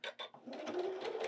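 A home sewing machine stitching a quilt panel with Minky backing: short whirring bursts, then a longer steady run of the motor and needle, fairly quiet and close.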